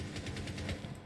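Rapid gunfire in a Rainbow Six Siege college esports match, a steady run of sharp shots across the whole moment at moderate loudness over a low rumbling game background.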